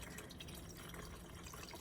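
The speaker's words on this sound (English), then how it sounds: "Pour it in there" Ready-mixed screen wash fluid poured from a 5-litre container into a car's washer reservoir, a steady close-up trickle and gurgle of liquid running continuously throughout.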